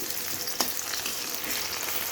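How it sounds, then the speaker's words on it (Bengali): Chopped onion dropped into hot oil with panch phoron for a cabbage dish, a steady close sizzle with brief stirring scrapes and spatters. "এবার আমি কেটে রাখা পেঁয়াজটা দিয়ে দিব"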